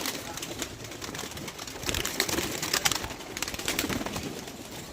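Badshah pigeons coo softly amid a constant noisy bustle of rustling and fluttering, with no clear pauses.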